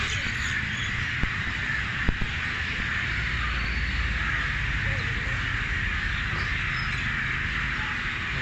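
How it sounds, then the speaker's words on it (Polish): A tree full of birds in Kandy, Sri Lanka, gives a steady chorus of chirps and calls with occasional sharper squawks, moderately loud against a constant outdoor background. "A tutaj zobaczcie na to drzewo ile ptaków jest na nim."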